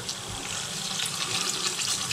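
Water running from a kitchen tap while cooking a quick canned onion-and-bean dish, a steady broadband hiss of flowing liquid lasting throughout, close and even, with no talking.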